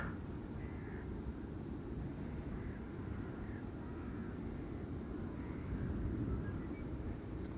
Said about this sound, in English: Delta is also approaching.